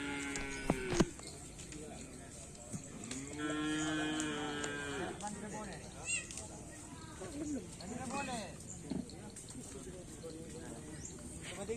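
Black cattle training on a field low out with several long, drawn moos, one sustained call standing out clearly, while people chatter nearby and a few sharp knocks punctuate the background.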